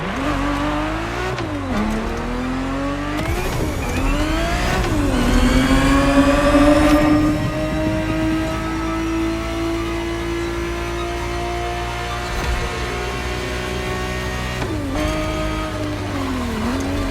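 A Ferrari 365 GTB4 in The Crew Motorfest racing game drives hard, its engine revving up through repeated gear changes, then holding a sustained high whine, loud and close with no voices.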